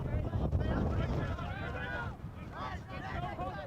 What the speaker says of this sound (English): You feel the wind picking up, really shaking our camera poles around